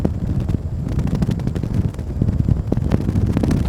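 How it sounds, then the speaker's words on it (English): Wind buffets a microphone on a saltwater shoreline, a steady low rumbling roar with irregular gusty pulses and no other clear sounds. "There's that wind."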